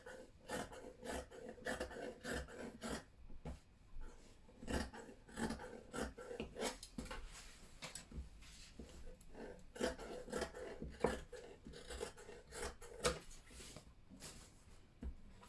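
Scissors cutting through fabric for a flare dress with a yoke, giving close, repeated crisp snips and rasping glides in an uneven rhythm, fairly faint with no talking.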